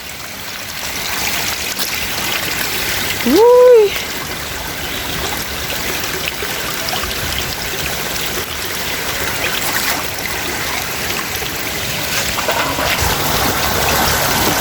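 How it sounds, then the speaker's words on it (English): Rainwater rushes through a full street drain in Portland during rain, a steady outdoor wash of flowing water that continues throughout, with one brief vocal whoop partway through. "Drain full of water"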